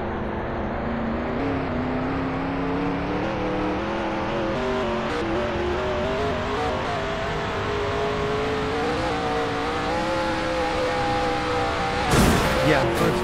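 A car engine in a game revs steadily and loudly as the car jumps over a bridge, ending in a brief crash-like burst near the end.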